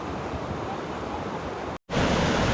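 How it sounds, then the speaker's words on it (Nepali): The Nalmo waterfall at Khaniyabas, Dhading, rushing as a constant broad roar of falling water close by, briefly cutting out before returning louder. "गाइस, हामी फाइनल्ली नल्मो झरनामा आइपुगेको छ।"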